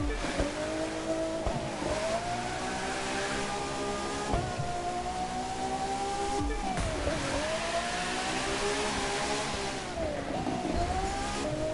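Ferrari engine in The Crew 2 racing game revving and shifting through gears with repeated rising pitch sweeps and tire squeal while drifting through corners, loud and continuous with a voice talking at times.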